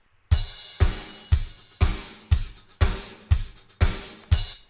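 Mixed drum loop run through master bus saturation and limiting, playing a steady groove of punchy kick and snare hits about every half second, roughly nine strong hits, loud and upfront with bright cymbal wash on top.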